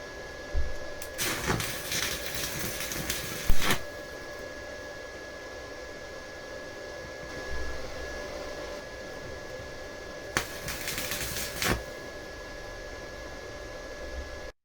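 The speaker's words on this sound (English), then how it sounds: "I'm going to put the pinion on, and I'm going to try and weld it on" A welder joins a pinion onto a pressure washer part, giving two stretches of crackling, hissing noise over a steady background hum at moderate distance.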